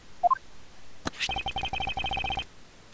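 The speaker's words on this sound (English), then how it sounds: "Was that a phone?" Phone tones sound in the courtroom-mystery video game Miles Edgeworth: Ace Attorney Investigations, a brief chime followed by a quick, evenly spaced run of beeping tones, fairly close and clear, with no talk.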